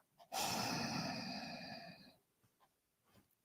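A single deep, soft exhale, like a slow sigh, comes during a calm guided meditation. It is close and quiet, lasts about two seconds, and is followed by faint small breaths.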